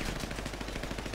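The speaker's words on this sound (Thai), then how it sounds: "เสียงปืน" Rapid gunfire in a Thai drama series, a quick burst of close, loud shots packed tightly together in just over a second.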